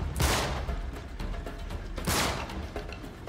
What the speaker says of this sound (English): Shooting at Sully, you crazy fool.